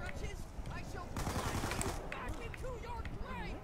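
Rapid gunfire in Call of Duty Zombies on the TranZit map, bursts of repeated shots with a denser volley midway, heard under players talking.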